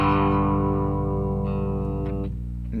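A distorted electric guitar plays a lick, a short sustained crunchy phrase with a few note changes and a quarter bend, ringing loud and up close before fading at the end.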